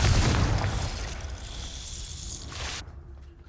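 Confringo explosion spell in the video game Hogwarts Legacy: a loud booming burst at the start, then a fading crackling rumble and a bright hiss that cuts off sharply.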